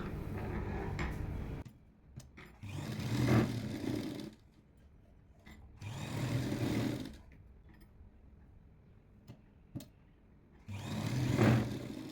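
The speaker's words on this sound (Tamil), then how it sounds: "இந்த ஓரத்தில் மொதல் ஒரு தையலை வந்து ப்ளைனாக போட்டுருங்க" A sewing machine runs a plain stitch down the side seam of a 40-inch lined jacket, sounding in three moderate whirring bursts with quiet pauses between them.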